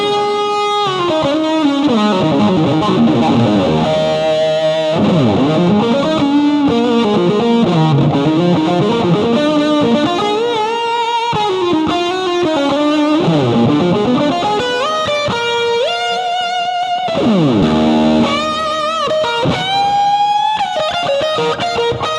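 Heavily distorted electric guitar through a Fractal TubeDrive 4-knob drive model, based on the Butler Tube Driver, plays a loud, saturated riff with sustained notes and bends, thick high-gain crunch filling the whole stretch without pause.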